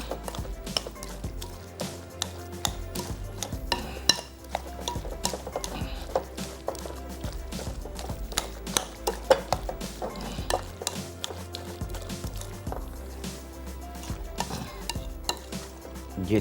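A spoon stirs and scrapes a dish around a pan with a gentle sizzle, producing a steady stream of small clinks and scrapes nearby for a long stretch.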